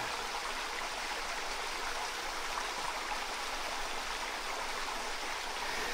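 A small river in the lowland forest of Seram in the Moluccas flows with a steady, soft rushing hiss, continuous and even throughout, with no voices over it.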